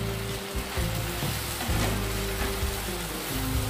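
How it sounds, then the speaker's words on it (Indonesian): Ground spice paste sautés in about six tablespoons of cooking oil for Indonesian opor ayam, giving a steady, close crackling sizzle with a few stirring scrapes and no talk. "Tumis sampai keluar aroma wanginya."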